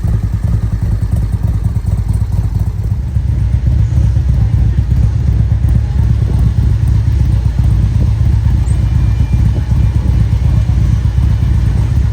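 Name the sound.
motorcycle engine started and running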